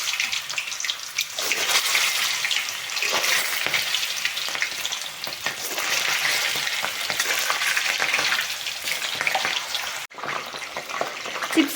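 Cut chips dropped into hot oil one by one and frying over a low flame, a steady loud sizzle that runs on throughout with small splashes and stirring, briefly dropping out near the end.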